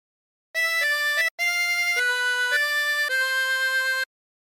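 O Christmas Tree played on a 24-hole tremolo harmonica, a phrase of sustained reedy wavering notes with one quick break, solo and close.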